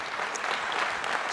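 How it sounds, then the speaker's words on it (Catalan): Loud, steady applause from an audience honouring a female councillor at a premiere event in Tortosa, continuous clapping filling the whole moment with no talk. "Fort aplaudiment per la regidora."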